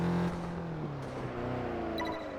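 A modified car's engine drones and shifts pitch during a race in a video game, with a steady mechanical tone and a few brief higher electronic blips near the end.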